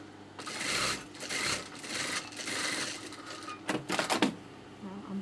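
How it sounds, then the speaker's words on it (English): Sewing machine stitching a sari blouse, several bursts of rapid mechanical whirring separated by short pauses, close and fairly quiet, ending with a quick flurry of stops and starts. "I'm going to start stitching around again."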